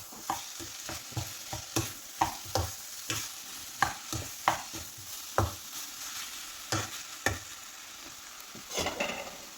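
Spinach and potato stir-fry being stirred in a pan, a spatula scraping in irregular strokes over a steady sizzle of frying, close and moderately loud with no voices.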